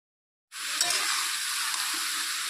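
Cut vegetables land in hot rendered fish oil, for a curry of potato and eggplant, and burst into a loud, steady, broadband sizzle after half a second of silence, with no talking.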